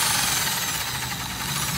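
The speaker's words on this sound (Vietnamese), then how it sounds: "Đầu có búa khoan tường nha." A Japanese domestic-market hammer drill with wall-drilling hammer mode runs steadily at close range, a loud continuous grinding whir with rapid hammering pulses throughout and no talking.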